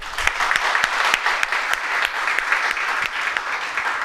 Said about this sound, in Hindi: उनके लिए तालियां हो जाए जरा,